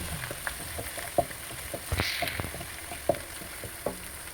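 Ginger garlic paste fries in a pan for liver fry, giving a soft continuous sizzle broken by occasional sharp spoon taps and scrapes as it is stirred.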